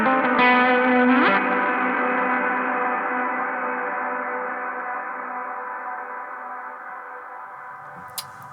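A guitar chord rings through a DigiTech Supernatural ambient reverb pedal set for a long decay, the tone swelling briefly and then washing out into a smooth, slowly fading tail that lingers for several seconds with no talking.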